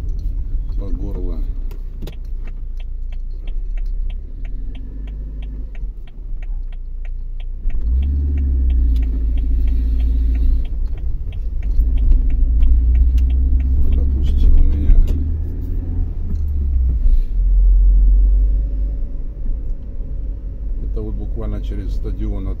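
Cars driving slowly through residential courtyards in Minsk's Sukharevo district in the morning, engines rumbling low and swelling as vehicles pass near, with people talking over the traffic noise.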